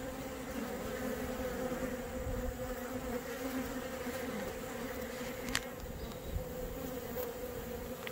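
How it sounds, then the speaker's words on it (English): A honeybee swarm being caught outdoors buzzes as a steady, dense drone throughout, with a few brief clicks and no voices. "here we are catching a swarm without any kind of protection"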